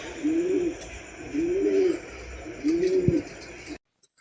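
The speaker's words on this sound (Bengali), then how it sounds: "এখানে আবার দোলাভাই পায়রা পোষে, দেখো কতটা পায়রা দেখো এখানে" Pet pigeons kept at a house cooing nearby, three clear, evenly spaced rolling coos over a soft background hum, before the sound cuts off abruptly.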